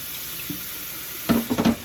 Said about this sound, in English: And I'm going to add a little bit of water to this.